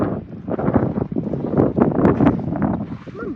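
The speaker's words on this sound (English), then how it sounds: "The wind is either gonna rock me to sleep tonight or freak me out." Wind gusting across the Anza-Borrego desert at night, a loud rumbling, buffeting roar that swells and fades against the microphone throughout.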